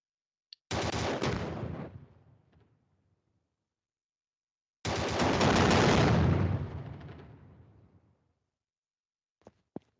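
Two long, loud bursts of rapid gunfire and blast noise from an active shooter simulation, each ringing out and decaying, separated by silence, with a couple of sharp single clicks near the end.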